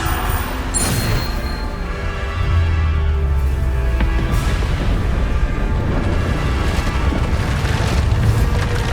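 A Bombarda spell blast in Hogwarts Legacy, a loud booming explosion with a deep rumbling tail that sustains for several seconds, with no talking.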